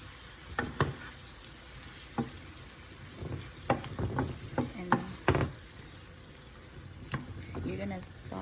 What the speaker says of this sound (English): You're gonna saute this until your oil runs out and you feel like there's no more excess oil left.